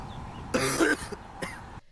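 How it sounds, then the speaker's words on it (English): A loud burst of coughing, two or three harsh coughs close together, followed by one shorter cough, close to the listener. "Coughing and smoking."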